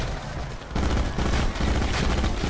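Hades LMG in Black Ops 4 Zombies on the Blood of the Dead map firing in a dense, continuous automatic burst after a brief lull, loud and full-bodied with no voices over it.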